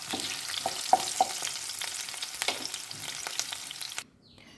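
Potatoes fry in hot oil for a Bengali foli fish curry. A steady, close crackling sizzle has scattered pops and stir noises, then cuts off abruptly just before the end.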